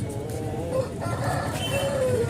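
Roosters at a country chicken market in Anantapur: a crowing call and clucking rise over a constant busy market din, with a long drawn crow toward the end.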